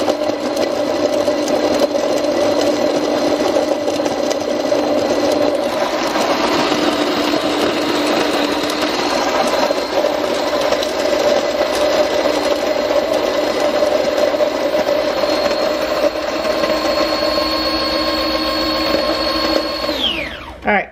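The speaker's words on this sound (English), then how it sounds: "So it's grinding here, and as it's grinding, it's putting it down into this." A conical burr coffee grinder grinds beans in a steady, loud, whirring drone that runs without break for about twenty seconds, then winds down abruptly at the very end.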